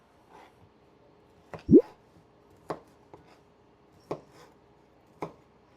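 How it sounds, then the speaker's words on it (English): Knife chopping andouille sausage into chunks, about five separate sharp thunks on a board spaced a second or so apart, close and distinct over quiet, with a short dog whimper among them. "We're going to cut up our andouille sausage"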